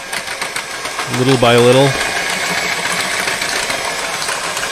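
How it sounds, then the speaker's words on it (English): Electric mixer whirring steadily in a home kitchen while making doughnut batter, a constant motor drone running throughout, with a short spoken phrase over it. "That's an electric mixer right there."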